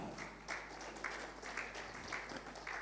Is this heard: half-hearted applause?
yes